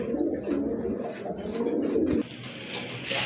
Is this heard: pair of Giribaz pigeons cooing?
yes